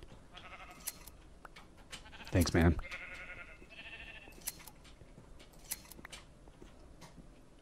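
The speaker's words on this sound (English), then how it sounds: "Whoa, brown sheep. Hey, brown sheep." Brown sheep bleating in the Minecraft video game, one short loud bleat standing out near the middle over quiet game ambience, with someone briefly talking nearby.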